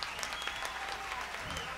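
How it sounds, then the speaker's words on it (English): An audience at a 1977 live concert at The Roxy in New York City claps steadily in a dense, even patter, heard at moderate distance without other sounds on top. "could you please give our orchestra a nice round of applause?"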